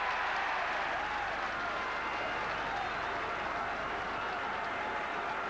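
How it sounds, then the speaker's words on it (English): Home rugby crowd of about 10,000 at Pontypool Park, 1984 cup tie, reacting to a successful Pontypool kick: a broad, steady roar of cheering and applause from a distant large crowd, continuous throughout. "there's tremendous relief in the reaction of the crowd"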